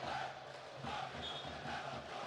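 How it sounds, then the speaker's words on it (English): A crowd in a basketball arena at a FIBA World Cup Asian qualifier between Jordan and Syria cheers and roars in rolling waves, a moderately loud massed din with voices blending together. "You can hear the crowd here in the Prims Hansa Arena loving the action they're seeing on the hardwood"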